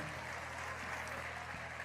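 Church congregation at an evangelical vigil service applauding, a steady dense wash of many hands clapping together that fills the room evenly from start to finish, with faint voices mixed into it.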